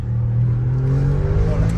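Audi RS7 after a stage 1 tune revs its engine nearby, a loud steady low drone with a rising whine layered on top, heard without voices.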